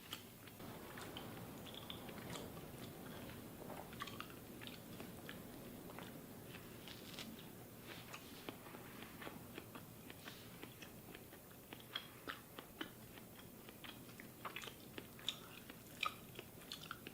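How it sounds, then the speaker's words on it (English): Someone chews raw ribeye steak, with steady moist bites and soft crunchy clicks repeating close to the mic for a long stretch without talk. "Just for the sake of digestion, I do usually try to chew it pretty well."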